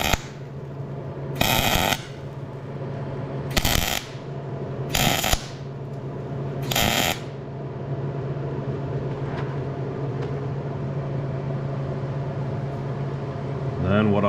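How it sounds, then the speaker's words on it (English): Welding around a broken exhaust manifold stud to attach a nut, with four short loud bursts of arc crackle separated by pauses over a steady low hum. "just going to weld all the way around it"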